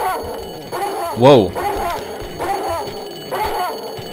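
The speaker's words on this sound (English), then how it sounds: "How did a dog make it here already?" A dog in the Tomb Raider II Remastered video game gives a quick yelping bark amid game background ambience while a person speaks over it, with a few fainter barks following.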